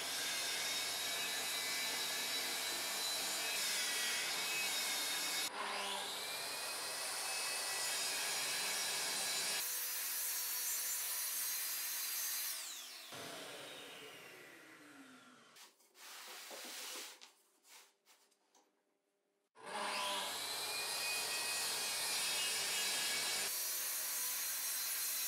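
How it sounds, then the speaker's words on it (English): A handsaw cuts through wooden drawer bottoms on a multifunction workbench in long, continuous rasping strokes. The sawing pauses and shifts in the middle with some scraping and handling noises, then resumes loud and close. "I'll use my old multifunction workbench to cut the drawer bottoms."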